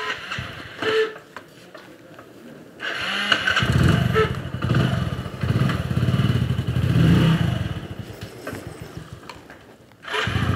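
Motorcycle engine starting, cranking then catching into a loud, rumbling idle and revving nearby, with no talk over it.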